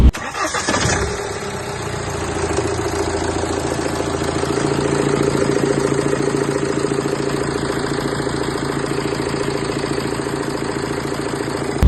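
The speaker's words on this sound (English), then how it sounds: "It does sound pretty rattly, the engine." A BMW 1 Series engine cranks and fires up, then settles into a loud, steady, rattly idle that holds close and constant to the end.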